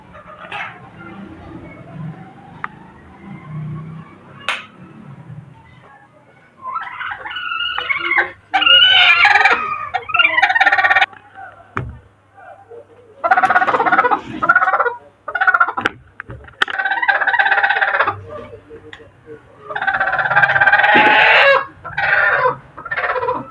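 Several bursts of Aseel hen clucking close by, coming in short clustered runs with quieter gaps between, over low background rumble and a faint voice.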